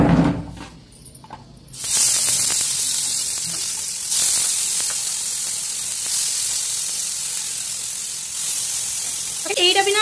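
Fish frying in mustard oil on a tawa for an Odia-style fish curry: a loud, steady hiss and crackle of sizzling oil that flares up after a quiet opening and continues close by throughout.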